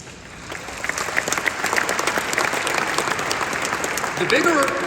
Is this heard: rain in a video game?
no